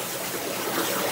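A waterjet cutting head sprays high-pressure water in a loud, steady hiss that fills the clip without a break.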